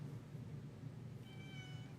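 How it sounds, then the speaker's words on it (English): Rosie the cat gives a single short meow partway through, faint against a low steady background hum. "Meow, and you're not getting any."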